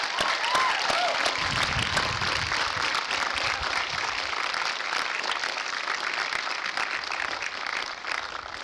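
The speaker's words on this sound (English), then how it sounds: "let's give all the mothers a round of applause" Long, even applause from a large crowd at a law school graduation ceremony, filling the space steadily at full strength and easing slightly near the end, with a faint voice briefly audible early on.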